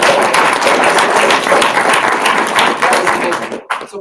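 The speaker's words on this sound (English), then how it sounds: "Yeah, go ahead and clap." A crowd at a network marketing event claps loudly and continuously, a thick roar of many hands that holds steady and then cuts off abruptly near the end, with a voice talking over it.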